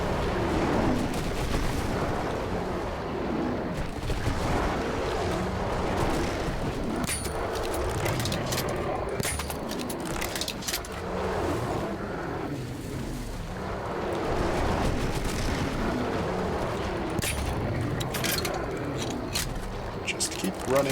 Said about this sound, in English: Those explosions are significantly less impressive than I was hoping they would be.